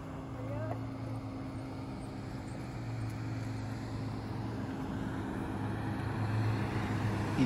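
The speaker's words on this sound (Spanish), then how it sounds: "Y todos estos carros son de gente que va a visitar a San Juditas Tadeo, aquí a la Piedra Parada." Road traffic hums steadily near Piedra Parada in Ciudad del Maíz, San Luis Potosí, as cars head to a San Judas Tadeo pilgrimage, a continuous engine drone with people talking over it.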